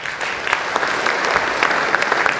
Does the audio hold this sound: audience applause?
yes